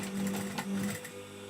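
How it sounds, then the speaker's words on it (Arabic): A sewing machine stitches a coat's side seam to the back panel with a fast, steady mechanical whir and close, loud needle clatter that stops briefly near the end. "غادي ندوز الخياطه حتى نجمع هاد الجنب مع هاد النصف ديال الخلف"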